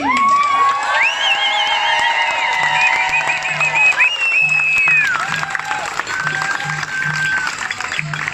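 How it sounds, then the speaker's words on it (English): A large crowd at a street demonstration in London applauds and cheers continuously, with whoops and shouts rising over sustained clapping, loud and close throughout. "Can I hear it one more time for Sita and the Women for Refugee Women?"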